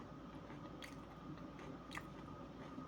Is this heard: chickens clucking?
no